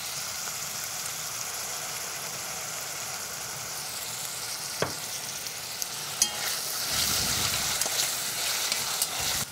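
Meat searing in a hot pan sizzles steadily and close, with a few sharp clicks and clatters from stirring or utensils and a louder burst of spattering toward the end, with no voices.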